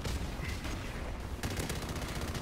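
Rapid gunfire in Call of Duty: Modern Warfare Remastered, a dense burst of automatic shots, a short lull, then another sustained volley, loud and close.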